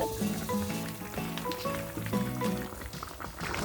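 Korean soybean pulp stew (biji-jjigae) bubbles as it boils in a pot, a steady sizzling, popping texture heard up close, with faint melodic tones running underneath.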